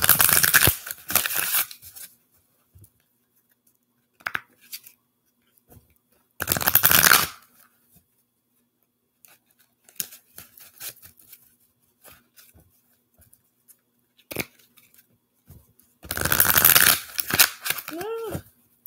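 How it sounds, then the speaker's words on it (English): Bursts of playing cards being shuffled, several riffles separated by pauses, close and loud, with a few quiet speech sounds in between. "I just shuffled that like a gorilla."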